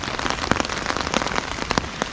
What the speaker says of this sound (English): You can probably hear the rain now coming down a little bit.